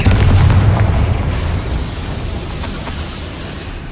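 A Confringo spell explodes in the Hogwarts Legacy video game, a loud booming blast that opens the clip and then fades into a long, rumbling decay.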